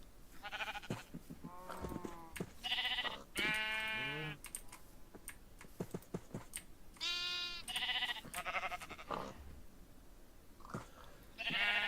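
Sheep in a video game bleat several times in short, wavering calls spread across the stretch, mixed with steady clicking of computer keyboard typing and no talking.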